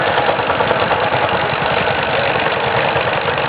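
A 1969-era Farmall tractor engine rumbles steadily past in a village festival parade, a loud continuous mid-low drone with a faint knocking pulse and no pauses.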